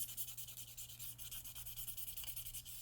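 Coarse sandpaper rubs over a metal hair clip in quick, steady back-and-forth strokes, a close, gritty scratching rhythm with no voices.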